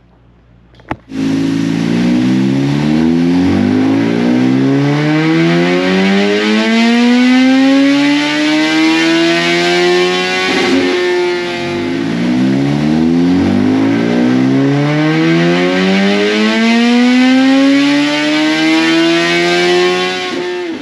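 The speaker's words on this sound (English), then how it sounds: "let's get this thing right here on the dyno, start making some pulls with it, see where our baseline is" A 2022 Suzuki Hayabusa motorcycle fitted with billet velocity stacks runs on a dyno in a shop, with loud sustained engine revving that climbs steadily in two long full-throttle pulls, a brief dip between them, and no talk.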